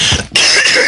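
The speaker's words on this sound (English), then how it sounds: "Sorry about all the coughing." Two quick, harsh coughs from a person close by, the second rougher and more throat-clearing, with no speech around them.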